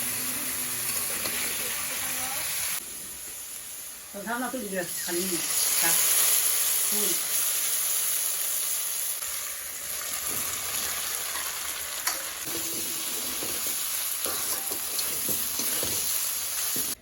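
Drumsticks (sajna) cook with mustard in a pan, giving a loud, continuous sizzling hiss that runs throughout while a person talks over it.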